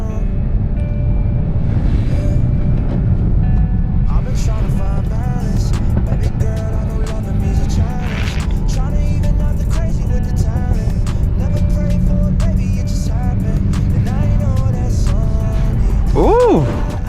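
BMW F30 sliding sideways while drifting in a mall car park, a loud continuous engine drone from inside the car with rising revs near the end, and people talking over it.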